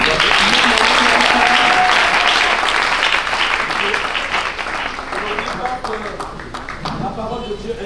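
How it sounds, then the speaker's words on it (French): A church congregation at a wedding sermon bursts into loud, sustained applause for the Lord, clapping dense at first and slowly thinning, with voices mixed in. "Est-ce qu'on peut acclamer pour le Seigneur?"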